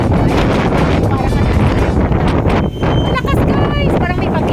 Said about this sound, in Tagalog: ang gano'n kalakas ang hangin dito